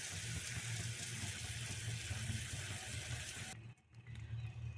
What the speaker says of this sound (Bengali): এটা অটোমেটিক ফুটতে থাকবে আর সেদ্ধ হতে থাকবে